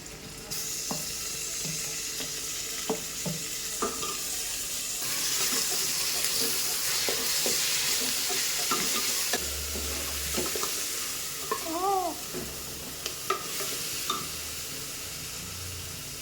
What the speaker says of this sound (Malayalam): ഇനി നമുക്ക് അടുത്തത് നമുക്ക് തക്കാളി ഇട്ട് കൊടുക്കാം